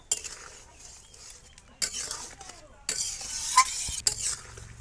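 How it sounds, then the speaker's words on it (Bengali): Boiled duck eggs being stirred into frying cauliflower curry in a pan: close sizzling under repeated scraping and clinking of a utensil against metal, with a few sharp knocks and no voices. "এই যে কাটিয়ে রাখা ডিমগুলো আমি ফুলকপির ভিতর দিয়ে দেবো।"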